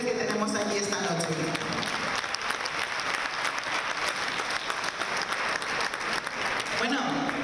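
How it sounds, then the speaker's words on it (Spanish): Sustained applause from a large audience at the Miss Equatorial Guinea 2016 beauty pageant, steady and loud throughout, with a voice briefly audible at the start and end. "Un aplauso para ella, por favor."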